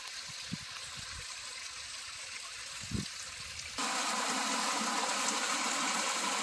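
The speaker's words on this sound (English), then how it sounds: "Well, this is a real small waterfalls." A small waterfall at Silent Lake with low flow: a steady, soft trickle and wash of water, a few faint knocks early on, then the flow sounds louder and closer partway through.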